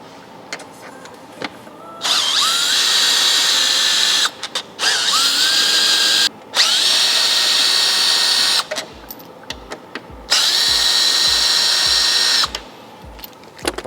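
A power drill backs out T30 screws from a Ford Bronco panel, running in several long, loud, steady whirring bursts with brief stops and soft clicks between them, close to the listener.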